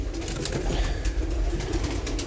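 Domestic pigeons in a loft cooing, low throaty repeated coos up close with some fluttery rustling and background noise, no one talking.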